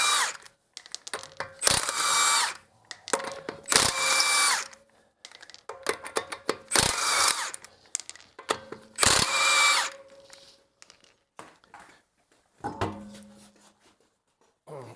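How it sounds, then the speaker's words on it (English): Power tool zipping off 19mm lug nuts from a Honda CR-V wheel, several loud, close bursts of impact-driver whirring separated by pauses and small metallic clicks. "we start out by removing the lug nuts."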